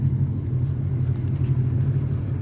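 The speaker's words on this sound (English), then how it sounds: "the car was still running" Engine of a parked car on factory air ride suspension idling as a steady low rumble, close and continuous, no other sounds over it.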